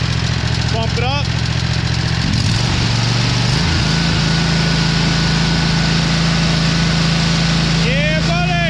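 A car engine idles loud and close with a steady low hum, then rises briefly as it is revved; a person talks over it at the start and end.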